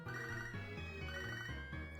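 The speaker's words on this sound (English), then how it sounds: "let me go into this menu so the phone keeps ringing" A phone rings in the Japanese version of Pokemon Soul Silver, a looping chiptune ringtone of repeating melodic phrases, steady and unbroken, with no talking.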